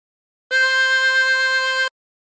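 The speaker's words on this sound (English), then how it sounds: "And blow into 5." A single sustained chromatic harmonica note blown on hole 5, steady and clear with rich harmonics, held for over a second alone with no talk.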